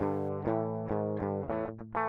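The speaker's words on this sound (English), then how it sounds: "If I just bypass that, you'll hear that the actual guitar track sounds like this." Dry, unamplified electric guitar played direct with no amp simulation, a sequence of clean plucked chords and single notes ringing out one after another, close and steady with no voices.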